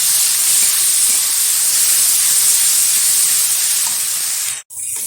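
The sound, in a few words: ginger, garlic and onion sizzling in hot oil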